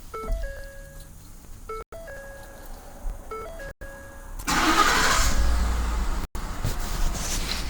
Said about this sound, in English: The vehicle's engine is going to start and run for 20 minutes.